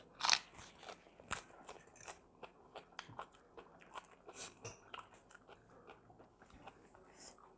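Someone eats a crunchy, spicy fresh shrimp and papaya salad, with sharp, close bites and crackly chewing in an irregular rhythm and brief pauses between mouthfuls.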